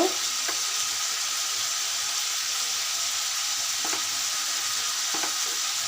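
Pumpkin and shrimp fry in a hot pan as ginger goes in, a loud, steady sizzle running throughout with a few faint stirring clicks.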